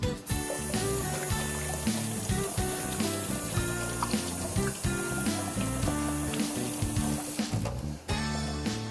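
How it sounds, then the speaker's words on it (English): Hands being rinsed under running water in a home kitchen while pork chops cook, a steady faint trickle and splash under background music-like hum, continuous for several seconds. "I'm gonna rinse off my mitts real quick"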